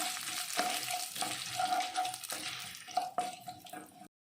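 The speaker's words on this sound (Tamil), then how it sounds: "எல்லாத்தையும் நல்லா வதக்கிக்கலாம்." Dried red chillies and dal sautéing in a pan, a steady close sizzle with stirring scrapes and occasional sharper clinks from the utensil, with no voices.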